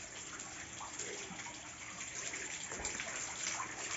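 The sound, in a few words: small decorative waterfall at a hotel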